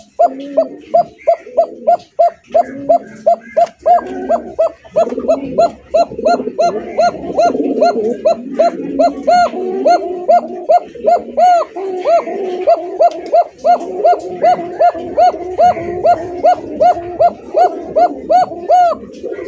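A male fancy pigeon coos in a steady, rhythmic series of throaty pulses that repeat close by for the whole stretch, with a faint fluttering background behind it.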